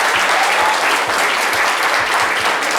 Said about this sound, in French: On applaudit très fort pour Yann